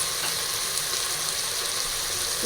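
Chicken sizzles steadily in a hot pan while it is stirred, a loud, dense, continuous frying hiss with no pauses.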